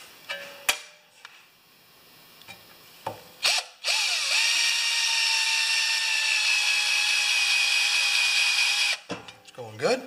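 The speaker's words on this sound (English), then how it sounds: "I'm just going to drill two holes for my homemade brackets to hold the battery from sliding side to side" A power drill bores holes for homemade battery brackets on a 12-volt charging cart: a few clicks and taps, then a loud, steady whine for about five seconds before it stops amid more handling noise.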